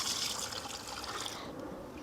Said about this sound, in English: So I go ahead and pour about half of it in.